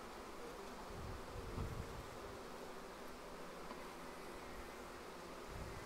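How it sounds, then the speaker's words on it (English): Honey bees buzz softly and continuously around an open hive during an inspection, a faint, even insect drone with no voices. "She just flew right over to the frame in the first position right there."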